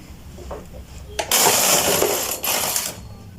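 A knitting machine carriage sweeps across the needle bed in one loud clattering, whirring pass lasting about two seconds, with faint mechanical ticks just before it.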